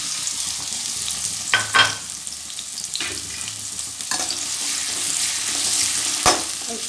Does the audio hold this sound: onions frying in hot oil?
yes